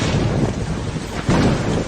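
Rolling thunder on a stormy night, a broad low rumble that swells toward the end, mixed with rain and wind noise, fairly loud and without any voices.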